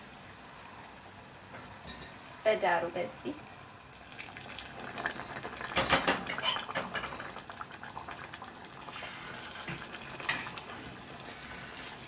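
Water splashed into a pan of frying lentils brings a sudden sizzle and hiss that swells and bubbles before settling into a gentler fry, with someone talking over part of it.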